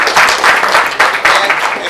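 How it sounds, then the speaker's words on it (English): An audience applauds a student at a school board meeting, with dense, steady clapping that swells in waves over two seconds and fills the room. "So give her a round of applause."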